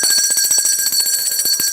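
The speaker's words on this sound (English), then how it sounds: "The bells are rung in celebration" A loud, continuous bell ringing with rapid clattering strikes, sounding close and steady, rung in celebration during a morning news broadcast, with no voices over it.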